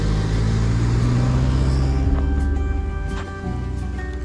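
A car passes on a local hill climb course, a steady loud engine drone that builds and then eases slightly as it moves along, with no talk over it.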